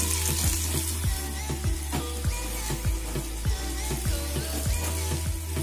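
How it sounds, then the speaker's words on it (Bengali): Pumpkin, potato and Malabar spinach are stirred in a pan with a splash of water for a katla fish-head dish. A spatula scrapes in a steady rhythm over a soft sizzle and a constant low hum, with no voices. "সামান্য একটু জল। হালকা করে একটু নাড়াচাড়া করে নিচ্ছি।"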